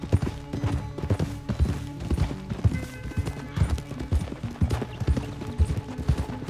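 A horse gallops in Red Dead Redemption 2, its hooves pounding out a fast, rhythmic clip-clop that stays close and loud throughout, with no talk.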